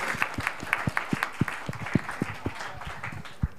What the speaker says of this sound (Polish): Prosimy o wielkie brawa dla pani od klapka.